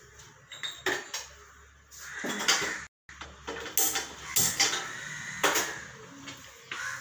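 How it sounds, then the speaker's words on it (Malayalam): Metal cookware clatters on a stove while preparing to cook chopped tomatoes: a series of close, sharp clinks and knocks in irregular bursts, with a brief dropout midway and quiet gaps between handling sounds. "ഇനി നമുക്ക് പാൻ അടുപ്പി വെച്ച് വേവിച്ചെടുക്കാം"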